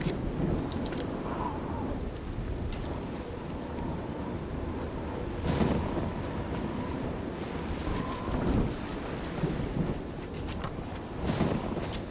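Steady rain pours in the video game Oblivion, a constant hiss punctuated by several deep thunder rumbles rolling in at intervals, with no talking.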